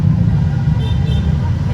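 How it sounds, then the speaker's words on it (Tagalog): Heavy low rumble of afternoon road traffic with cars passing close by, a steady loud roadway drone that carries on without a break and has no voices over it. "Yan, ang traffic dito paghapon."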